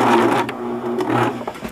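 A serger runs steadily along a T-shirt seam, its fast mechanical whir close and continuous for under two seconds with no talking.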